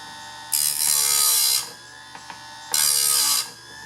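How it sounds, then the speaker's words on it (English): A hand file sharpens the teeth of a chainsaw chain in two separate bursts of bright, close rasping strokes, each lasting about a second, with a short quiet gap between them. "I'm just sharpening the end of the tooth"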